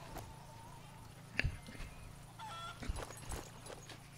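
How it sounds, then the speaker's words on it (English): A chicken in the wartime shooter game Sniper Elite 4 clucks in a few short, honking bursts at moderate distance over a quiet ambient hum, with no talking. "I heard a chicken. Did you guys hear that?"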